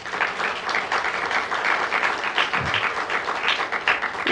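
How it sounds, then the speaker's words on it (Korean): A congregation at a Wednesday service at Saebit Church claps in thanks to Jesus. Many hands applaud close by in a loud, slightly pulsing rhythm, with a single low thump midway and no talking. "우리 예수님께 감사하다고 박수 한번 할까요?"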